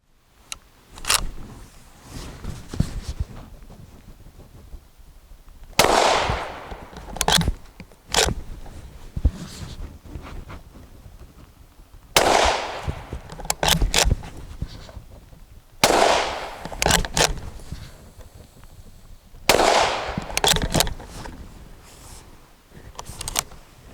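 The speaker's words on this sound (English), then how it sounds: "Anyway, we'll load it up and take a few shots." A Savage Impulse rifle fires a handful of sharp, loud single shots spaced several seconds apart, each followed by mechanical handling clicks and rustling between rounds.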